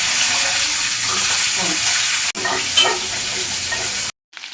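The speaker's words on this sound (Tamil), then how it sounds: "மிளகு, சீரகம், கசகசா, இது நல்லா வறுத்துட்டு கைப்பிடி அளவுக்கு வெந்துக்கணும்." Pepper, cumin and poppy seeds roast in a pan, giving a close, steady sizzling hiss with light stirring scrapes, broken by a brief dropout and cut off near the end.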